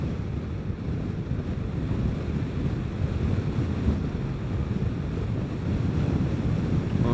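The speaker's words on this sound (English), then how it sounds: "I'm driving right into that wind." Heavy, continuous wind buffeting a microphone while riding a Vespa GTS scooter straight into a headwind, a loud low roar with no speech.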